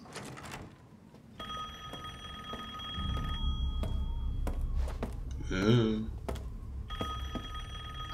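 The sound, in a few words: telephone ringing in Resident Evil Village video game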